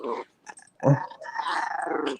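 A small dog growls and snarls up close in short, throaty bursts, rising into a long drawn-out snarl near the end, loud and with no talking.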